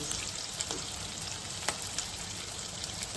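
Veg fried rice frying in a pan gives off a soft, steady sizzle with faint crackles and a few light stirring clicks, fairly quiet and without talk.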